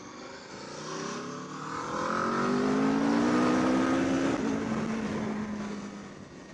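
An Aprilia RSV4 Factory 1100 motorcycle is ridden on the road, its engine rising and falling in pitch through gear changes while wind rush swells and fades, heard from the rider's position.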